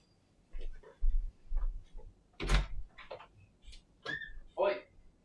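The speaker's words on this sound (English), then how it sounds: "I got to just shut my son's door." A bedroom door shut inside a home, heard as one sharp thud in the middle of a quiet room with some faint voice sounds around it.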